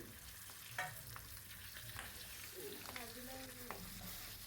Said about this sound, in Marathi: आता ही तेलावरती छान अशी परतून घ्यायची आहे